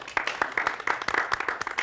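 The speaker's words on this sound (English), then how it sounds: "Round of applause again." An audience claps in a lively round of applause, a dense, fairly close patter of many hands that continues steadily throughout the short stretch.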